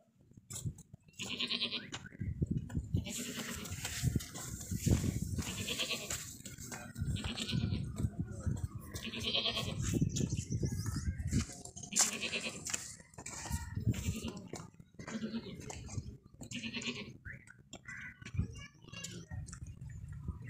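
Goats, including a roughly 30 kg male at a sacrificial goat market, bleat repeatedly at close range, several nasal cries rising over rustling and shuffling, with people speaking intermittently.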